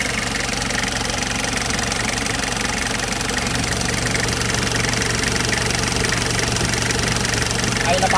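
A Toyota LH112 van's 2L engine runs at a steady idle close by, a continuous low drone with a faint knocking texture that holds evenly throughout, with someone talking briefly over it.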